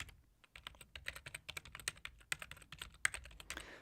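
Rapid typing on a computer keyboard, a dense run of crisp, close key clicks in an uneven rhythm with no voices.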